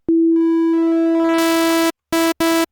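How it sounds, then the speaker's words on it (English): A sine wave synth tone from a stock plugin, a loud steady pure tone that swells with added harmonics and noise, then cuts off and returns as two short bursts. "And now we'll just have a sine wave here."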